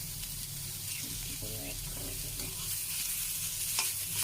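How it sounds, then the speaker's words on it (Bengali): Chillies fry in a pan with a steady, close sizzle and some stirring scrapes, alongside a faint low hum in the background. "এখানে আমি কয়েকটি মরিচ ভেজে দেবো"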